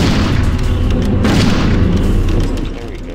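Hunting rifle shots boom in the Cabela's African Adventure video game, a loud heavy blast with rumbling decay that fades out toward the end, with a player's voice partly mixed in.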